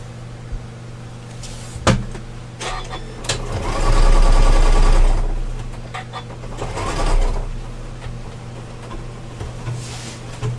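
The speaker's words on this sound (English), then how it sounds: "just going to stitch the first inch or two on that side, and then come down and do about the same on this side" A sewing machine stitching a wire frame bag, heard close as a short burst of whirring stitches that swells and fades, with clunks and handling knocks around it and a second, softer run later.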